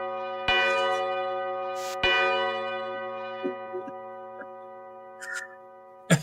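A church bell tolls loud and close, two heavy strikes with long ringing decay, followed by lighter faint knocks and a brief high chime near the end.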